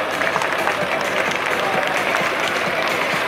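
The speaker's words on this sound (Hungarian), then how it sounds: "Pocsai Csaba megérdemli a tapsot" Steady, dense applause from an outdoor audience at a tractor-pulling contest in Hajdúböszörmény, honouring driver Pocsai Csaba in the Farmstock 2 class, continuous and even throughout with crowd noise blended in.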